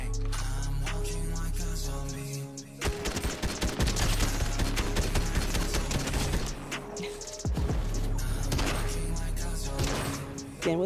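Rapid shotgun gunfire bursts in Fortnite, loud clustered blasts and impacts with brief pauses between volleys, set against game audio.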